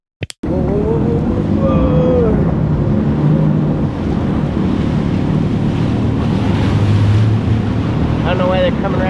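A center console motorboat approaching across open water, its engine a low drone buried under loud wind buffeting and rushing water noise, heard from aboard a moving WaveRunner.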